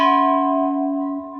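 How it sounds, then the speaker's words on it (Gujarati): A large temple bell at the Surya Dev Shani Dev temple in Kundaldham, struck once and ringing with a clear, sustained metallic tone that slowly fades, close and alone. "આ સૌથી મોટું બેલ ઘંટો"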